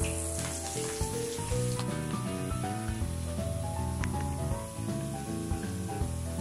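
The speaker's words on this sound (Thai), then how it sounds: "เราก็ทำการทอดกุ้งไปเรื่อย ๆ เลยนะครับ" Battered shrimp deep-frying in hot oil, a steady dense sizzle running loud and close throughout, with music playing underneath.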